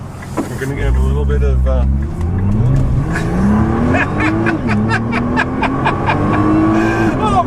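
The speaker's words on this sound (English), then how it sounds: "I'm going to floor it a little bit, so just be ready." A 2015 Nissan GT-R Nismo accelerates hard at full throttle, its engine note climbing loudly through the gears with a brief shift dip, close up from inside the cabin while someone talks over it.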